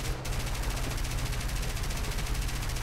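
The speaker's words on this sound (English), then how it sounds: "Let's go for a new engagement with the machine guns." Sustained machine gun fire from a Valentine Mk XI tank in War Thunder, a dense, loud, rapid unbroken burst running throughout with heavy low rumble beneath.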